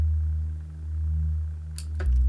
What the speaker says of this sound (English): it's just a simple Serum Reese preset